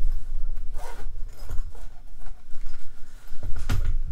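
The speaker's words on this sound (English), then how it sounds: "The zipper, let's unzip it." Zipper of a durable Teslong MS450 borescope carrying case being pulled open in several close, scratchy rasping strokes, heard alone without talk.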